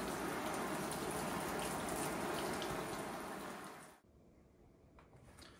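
Heavy water spray patters loudly and steadily against a snowmobile jacket like downpour, then cuts off abruptly, leaving faint drips and near silence.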